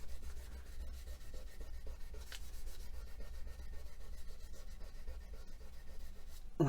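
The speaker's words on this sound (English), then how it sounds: "I'll just get a little bit of scrap and just give that a little rub over" A scrap of material rubbed back and forth over a small handmade pendant, a soft continuous scratchy friction sound, close and even, with a faint tap near the end and no talking.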